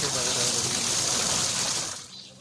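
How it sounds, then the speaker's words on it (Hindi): A washing machine converted to run on 12V DC spins at speed, throwing water that splashes and gushes loudly and steadily, then eases off near the end. "दोस्तों आप देख रहे हैं स्पीड के साथ चल रहा है, तो पानी के छींटे बाहर आ रही है।"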